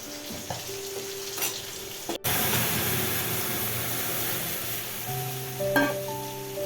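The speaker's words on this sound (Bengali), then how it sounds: "আর এখানে দেখো ডালের জন্য পেঁয়াজটা ভাজতে দিয়েছি" Onions frying in a pan for Bengali lentil dal give a steady, close sizzle with faint stirring scrapes and brief utensil clinks, alone without talk.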